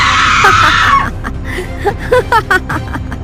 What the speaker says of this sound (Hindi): जोरदार आवाज में चीखने लगती है